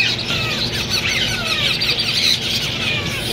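Hand-fed parrot chicks, including Senegal and African grey, squawking and squealing in a dense continuous chorus at a busy Sunday bird market in Bahawalpur, loud and close.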